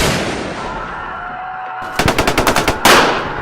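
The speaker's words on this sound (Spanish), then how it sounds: "Alguien comenzó a disparar desde arriba." Rapid burst of gunfire fired from above during a 1968 student massacre in Mexico City, about eight sharp evenly spaced shots followed by a louder blast, after a stretch of droning background noise.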